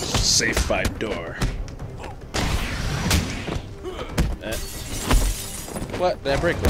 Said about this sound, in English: Did I break glass?